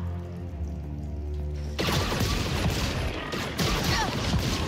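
Gunfire erupts in the Star Wars Outlaws video game, a sudden dense barrage of loud, close shots and impacts that follows a quieter humming stretch and keeps going to the end.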